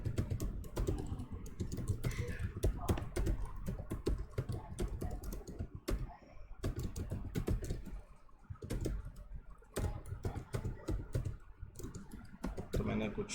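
Typing on a computer keyboard to enter text into a notebook cell, heard as a dense run of clicky keystrokes with brief pauses and low room noise throughout.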